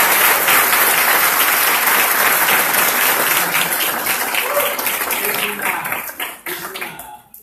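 Sustained audience applause at a university law faculty book presentation in Mexico, steady and dense for several seconds before thinning out and tapering off toward the end.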